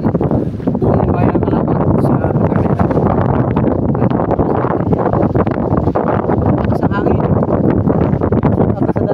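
Strong wind buffets the microphone outdoors on a walk in Calauag, Quezon, a loud, constant low rumble with gusty swells throughout, covering any other sound.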